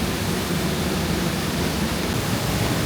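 Broadband, steady roar of a waterfall near a campsite on the Oregon coast, loud and constant with no pauses or voices.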